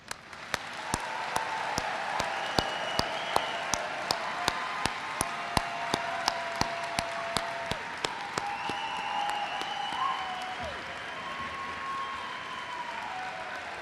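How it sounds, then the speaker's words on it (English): Graduates and guests at a spring commencement hooding reception give a steady round of applause, with distinct sharp claps standing out over the crowd throughout, heard from some distance. "join me in one final round of applause for all of our graduates"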